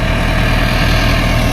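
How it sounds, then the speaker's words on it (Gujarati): A tractor engine runs steadily while levelling soil in a farm field, a loud, close, continuous low rumble with an even idling throb and no voices. "આ લેવલ આ ટ્રેક્ટર કરાવે."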